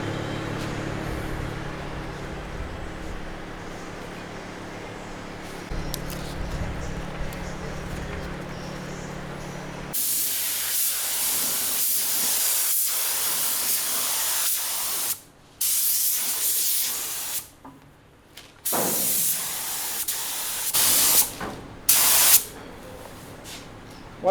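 Spray gun hissing as paint goes onto the firewall and dash of a Terraplane car, first a steady loud spray, then a series of sharp bursts broken by short pauses, with talking faintly present.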